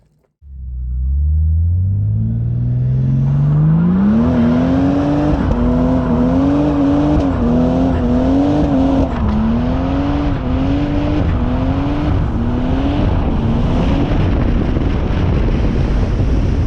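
A Ford XR6 Turbo revs up loud and close during a power skid, its engine note climbing and then wavering under heavy rumble and wind buffeting that carry on for the whole stretch.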